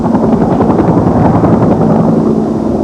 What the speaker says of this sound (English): Low-flying helicopters attacked the fire, navigating slowly through the smoke, dousing hot spots